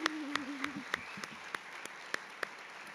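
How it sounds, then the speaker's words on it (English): At a guide and service dog graduation, people clap in a thin, slow rhythm, with separate claps spaced about a third of a second apart. A faint voice speaks briefly at the start. "One more round of applause."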